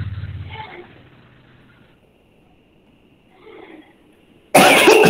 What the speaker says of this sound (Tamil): இருமல் வந்து இல்லையா